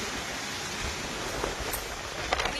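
Heavy rain pours in a dense, steady hiss while wind roars through a storm, an unbroken wash of noise with a few brief spikes.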